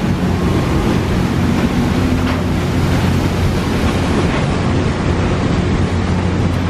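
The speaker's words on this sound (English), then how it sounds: "steam engine powering the paddle" Paddle wheel of the Natchez steamboat in New Orleans churns water at close range, driven by its steam engine, a steady loud rushing wash with low rumble and no talk.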